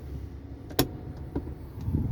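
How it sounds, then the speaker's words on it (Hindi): A car's handbrake released during a driving lesson: one sharp mechanical click with a few faint ticks after it, over the low hum of the car interior. "हैंड ब्रेक डाउन करो"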